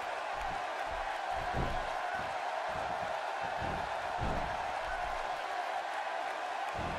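A wrestling crowd roars steadily through the whole stretch, a dense wash of cheering with a few louder swells, heard from within the arena.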